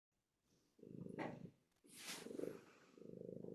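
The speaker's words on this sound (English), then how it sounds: "I can hear the purr" A cat purrs in steady low rumbling bursts, close and fairly loud, with a brief higher hiss or breathy sound in the middle.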